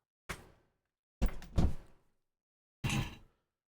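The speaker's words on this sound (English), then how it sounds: "kind of like my cat who's climbing my door right now." A cat scratches and bumps against an indoor door in three separate bursts, a short one then two longer scraping, thudding ones, close by and moderately loud with silence between.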